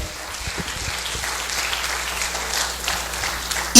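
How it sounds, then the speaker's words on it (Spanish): Applause during a Spanish-language evangelical church service, a steady broad wash of many hands clapping together from a congregation, sustained at even loudness throughout without speech. "¿Cuántos le quieren dar ese aplauso al Señor?"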